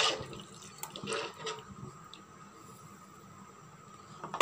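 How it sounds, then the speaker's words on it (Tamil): Water pours and splashes into a pot of fish curry, a steady liquid trickle with a few drips and clinks, fairly quiet and close. "தேவையான அளவுக்கு தண்ணி ஆட் பண்ணிக்கலாம்"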